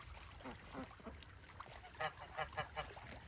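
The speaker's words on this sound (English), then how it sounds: "What about you, geese?" Geese on a small Canadian farm in winter give a run of nasal honks, sparse at first and then several quick calls in a row, fairly faint against quiet outdoor background.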